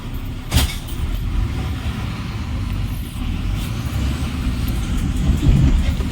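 A Maharashtra ST bus rattles and jolts along while driving in heavy rain, its loud engine rumble and road noise continuous, with sharp knocks and bangs from the body as it bounces.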